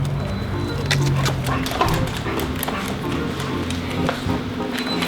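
A puppy whimpers and gives small yips in a garage, the short cries scattered among nearby people talking and faint shuffling.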